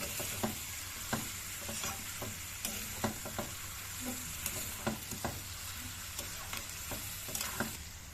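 Red amaranth greens fry in a pan with a continuous close sizzle, punctuated by regular scraping stirs of a spatula roughly every half second.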